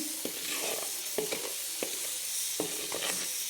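Chili masala roasting in a pan for mutton curry, a steady soft sizzle and crackle of spices frying with periodic scraping strokes of a spoon stirring, close and alone without talk.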